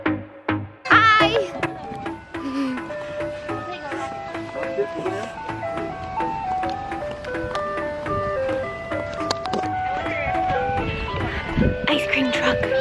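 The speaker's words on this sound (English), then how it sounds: "It's like perfect coming in from the pool and there's an ice cream truck." An ice cream truck's jingle plays on arrival as people come in from a pool, a bright repeating tinkling melody that carries steadily and loudly throughout, with voices and chatter over it.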